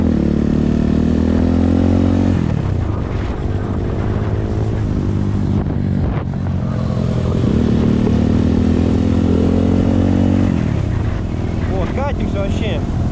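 A BSE Z3 enduro motorcycle rides off-road, its engine revving up and easing off in repeated surges. Clattering and rolling noise run throughout, and a voice talks over it at times.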